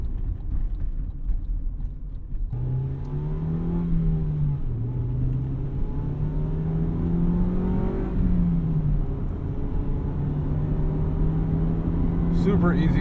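A 1999 Honda Civic Si (EM1) with manual transmission being driven, its engine hum rising and settling through the gears at a steady close drone while a person talks over it.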